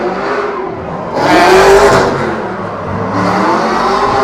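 Drift car engine revving hard during a practice run at a drift championship round in Cyprus, loud and close with rising, surging revs and a sustained roaring whine.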